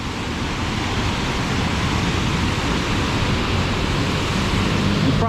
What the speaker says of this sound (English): Let me just take you over here to this waterfall.